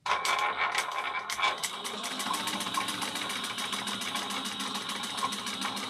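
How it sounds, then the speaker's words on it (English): A sewing machine stitches a second row of stitching on a bag pocket: a few short stop-start bursts, then a fast, steady mechanical whirr and rapid needle clatter running continuously up close. "I like 2 rows of stitching, so I'll go 1/8 of an inch above the other row of stitching"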